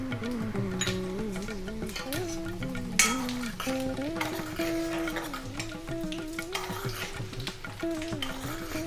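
Dried red chillies drop into hot tempering oil already seasoned with asafoetida, a steady close sizzle and frying crackle with occasional stirring and clinks of a pan, no voices.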